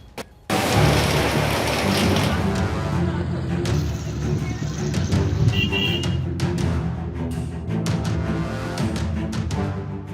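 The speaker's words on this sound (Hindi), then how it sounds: "मध्य प्रदेश में लगातार बारिश का दौर जारी है।" Heavy monsoon rain pours steadily in Madhya Pradesh, a dense continuous hiss of downpour close by with scattered sharper patters and splashes throughout.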